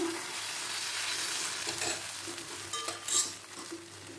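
Rice flour dosa batter sizzles on a hot pan, a soft, steady frying hiss with light scraping and a few clinks near the end, close and fairly quiet.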